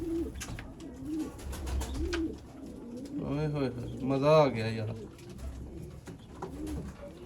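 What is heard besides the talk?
teddy pigeons cooing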